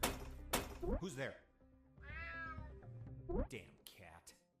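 A cat meowing in the stealth game UnMetal, a drawn-out wavering meow in the middle set between clipped game voices and thumps, moderately close.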